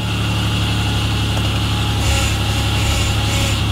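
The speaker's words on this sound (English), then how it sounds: "You can hear the power steering pump that I replaced." A Chevy Impala engine idles with a junkyard replacement power steering pump fitted, a steady close mechanical hum with a faint whine on top, unbroken and fairly loud, with no talking.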